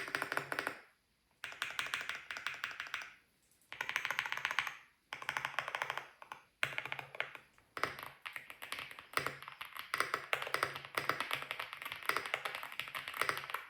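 Typing on a 75% gasket-mounted mechanical keyboard with hot-swappable switches and foam dampening, delivering fast, dense bursts of close, crisp keystrokes separated by brief pauses, with no talking.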